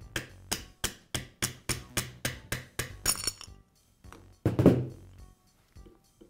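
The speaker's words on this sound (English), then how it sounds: "I'll tap the shaft away from the bearing with a rubber mallet." Rubber mallet tapping the armature shaft out of a ball bearing in a Makita grinder housing set over vise jaws: about ten close, evenly spaced thuds, then a pause and a heavier knock with brief rattling.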